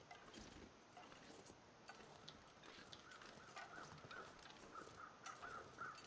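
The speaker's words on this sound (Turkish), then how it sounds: "Ah, karga sesi." A crow caws in the survival video game The Long Dark, a faint series of repeated calls in the distance over quiet outdoor ambience.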